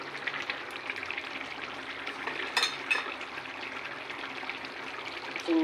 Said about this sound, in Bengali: এখন আমি এই যে চিংড়িগুলো ঢেলে দিচ্ছি।